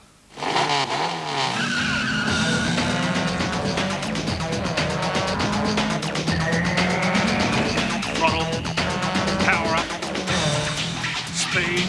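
Racing cars skid and squeal through a Top Gear Rally game on Nintendo 64, a loud, busy stretch with engine roar and music running under steady tire screeches for about twelve seconds.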